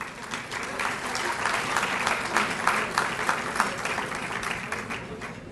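Steady, dense applause from an audience at an athletic hall of fame ceremony fills the whole stretch at an even, moderately loud level, with a faint murmur of voices mixed in.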